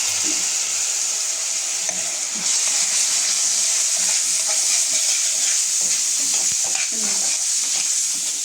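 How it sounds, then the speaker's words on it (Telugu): Cooked pasta being stirred with a spoonful of food vinegar in a hot pan gives a loud, continuous sizzle and hiss with intermittent stirring scrapes, close to the pan. "వెనిగర్, ఫుడ్ వెనిగర్ అండి, అది 1 స్పూన్ వేసుకొని అది మిక్స్ చేసుకోవాలి."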